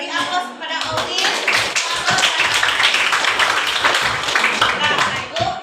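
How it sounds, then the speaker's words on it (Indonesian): Classroom applause for a student, a steady wash of many hands clapping together for several seconds, close and fairly loud throughout. "Beri aplaus kepada Audin"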